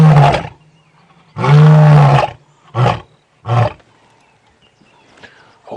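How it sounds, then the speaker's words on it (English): Wild lion roaring on an early-morning safari drive, a series of deep, loud grunting roars, one long bellow followed by shorter puffing calls with quiet gaps between, close and clear. "Oh, he might roar again. I heard some other lions to the east that set him off."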